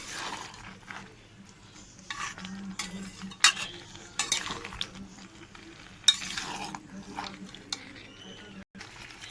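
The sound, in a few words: stirring jackfruit curry in a pan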